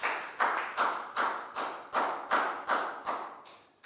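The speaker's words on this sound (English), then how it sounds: "High five and a big round of applause for Lakgau, guys." Slow, evenly spaced claps in a classroom, about nine sharp strikes in under four seconds, each decaying briefly, close and fairly quiet with no talk.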